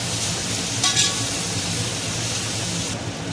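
Chopped onions go into hot oil for chicken biryani and sizzle in a steady, dense hiss that is close and constant, with a brief brighter crackle near the start and no voices.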